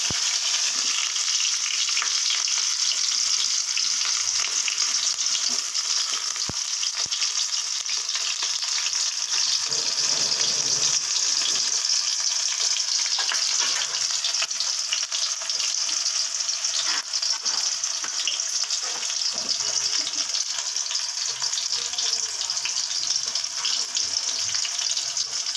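Onions hitting hot oil after radhuni spice has been fried, a loud dense sizzle that holds steady and unbroken for the whole stretch, close up with no voices.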